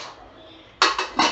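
A pressure cooker lid with its ring and whistle is fitted in a kitchen: a soft scrape, then three sharp metallic clacks in quick succession, close and alone.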